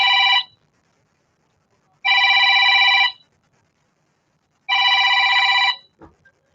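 A telephone rings for an incoming call in three loud, close bursts separated by silent gaps, with a brief knock just after the last ring.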